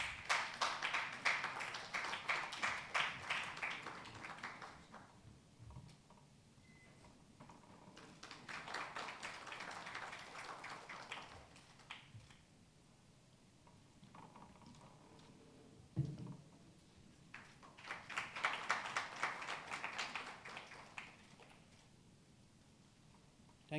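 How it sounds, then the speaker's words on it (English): Conference audience applauding during a felicitation at an enterprise AI event, three faint swells of clapping separated by quieter gaps with scattered taps, distant and low in level. "Can we have an applause, please?"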